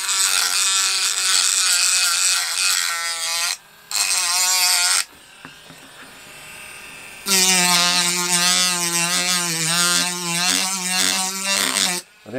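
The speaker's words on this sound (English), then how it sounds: "I do prefer my soft sandpaper, because that sounds like we're going to a dentist." A small RC propeller is sanded with sandpaper, giving a loud, steady high-pitched buzzing whine that runs continuously, breaks off briefly twice, and returns stronger near the end.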